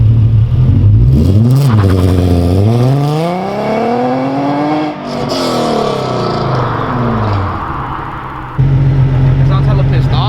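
A Nissan 350Z fitted with long tube headers revs hard and loud up close, its engine pitch sweeping up and falling back in two broad arcs before settling into a raspy idle.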